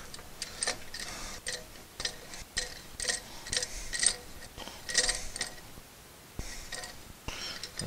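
A C-clamp being tightened to push back the brake caliper piston on a 2016–2021 Honda Civic, giving irregular metallic clicks and ratcheting ticks up close, with quiet pauses between turns.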